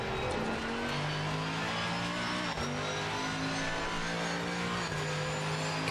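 Race car engine in a sim racing game revving hard under throttle, a steady loud mid-pitched drone with rising harmonics and a brief gear-change dip partway through, continuous throughout.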